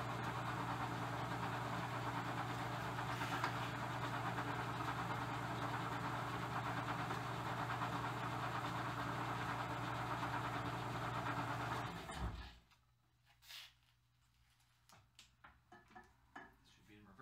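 A vintage Bertram lathe hums steadily at slow speed with a low machine drone and some knocking for about twelve seconds, then stops abruptly, leaving near-quiet with faint handling sounds.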